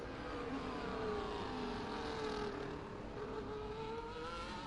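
A Formula-style race car on a hot lap on dry tyres around the Singapore street circuit in a racing game, its engine droning steadily and fairly quietly with a rising whine as it accelerates.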